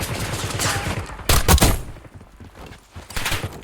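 Bursts of rapid video game gunfire in a shooter, including a loud sniper-style volley in the middle, with dense automatic fire before and after and no talking.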